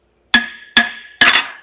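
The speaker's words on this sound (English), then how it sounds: "Maybe I have to hammer the other side." Three sharp hammer blows ring out on metal, likely on a seized front half shaft of a 2023 Genesis GV70, each leaving a bright ringing tail; the last strike bounces quickly into a double hit.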